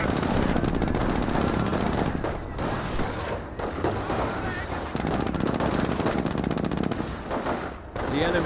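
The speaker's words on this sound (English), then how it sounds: "Riflemen engaging the Panzer Grenadiers at point-blank range." Rifle and machine gun fire in Company of Heroes as US riflemen engage Panzer Grenadiers at point-blank range: continuous, dense rattling bursts and sharp cracks, loud and close, with brief lulls and talk over the din.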